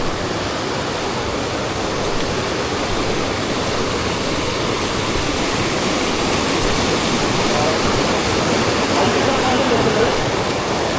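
Siddheshwar Waterfall pours in heavy rain as a loud, unbroken roar of rushing water that holds steady from start to finish.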